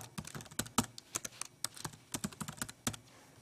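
Fingers type a username and password on a computer keyboard, giving a quick, uneven run of close, light key clicks that stops abruptly near the end.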